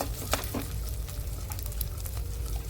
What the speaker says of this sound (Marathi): यामध्ये बारीक चिरलेली हिरवी मिरची टाका आणि उकडलेला बटाटाही बारीक करून टाका। व्यवस्थित परतून घ्या।